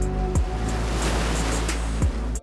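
Ocean waves crashing on rock, used as an added sound clip in a drone footage edit: a continuous loud roaring wash of surf with a couple of heavier surges, ending abruptly.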